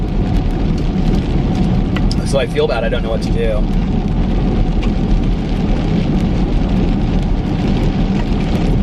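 Steady, loud rain drumming on a car roof throughout, with a person speaking briefly near the middle over the downpour.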